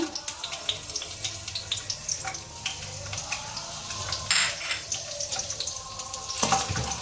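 Almonds frying in ghee in a pan give a steady close-up sizzle with a watery, hissing texture and a few sharper crackles, continuing throughout with no voices.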